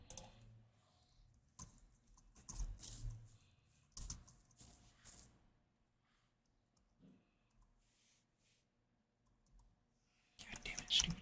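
Computer keyboard keys clatter in quick bursts of typing and clicking, loud at the start, quiet through the middle, then a sharp flurry at the end, with faint murmured voice in the background.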